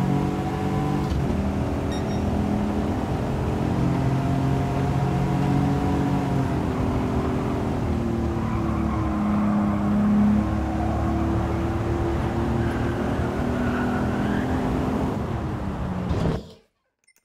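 An Aston Martin race car in Gran Turismo 7 on Goodwood Circuit holds a loud, steady engine drone with slight rises and dips in pitch, then abruptly falls silent near the end.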